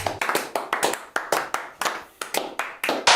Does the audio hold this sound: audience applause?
yes